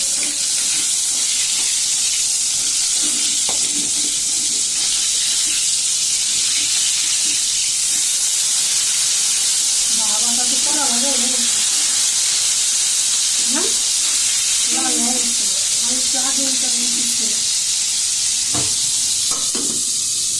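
Rohu fish pieces lightly frying in a pan give a steady, even sizzling hiss throughout, with a few faint voiced sounds in the middle.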